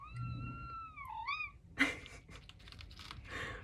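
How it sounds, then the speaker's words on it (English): A pet cat lets out a couple of close, clear meows in quick succession, followed by soft rustling and light tapping noises, with no talking. "my cat."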